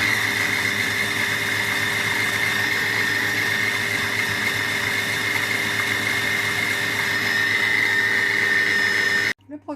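Cookomix food processor running at speed 5 for 30 seconds, a loud steady motor whine with a high-pitched tone, holding even for most of the run and then cutting off abruptly at the end.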